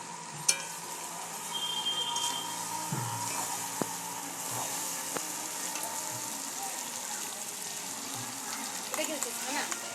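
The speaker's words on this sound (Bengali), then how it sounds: "ঢাকনাটা খুলে আরেকটু নাড়িয়ে নেব।" Chicken bhuna masala is stirred in a pan with the lid off, giving a steady broadband sizzle of frying. Intermittent stirring clinks and scrapes sit over the sizzle, with soft background sounds.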